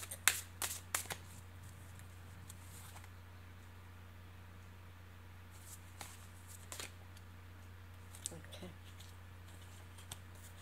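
Surrender oracle cards shuffled by hand, a few quick papery riffles and flicks near the start with scattered softer card taps later, faint and close against a steady low hum, with some speech.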